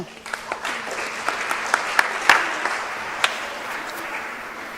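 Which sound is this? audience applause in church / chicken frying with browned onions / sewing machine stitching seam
audience applause in church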